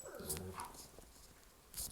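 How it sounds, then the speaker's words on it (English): A pet dog indoors gives a brief, drawn-out whining yawn, close by and fairly quiet. It is heard mostly at the start, with light room noise after it. "That was my dog yawning."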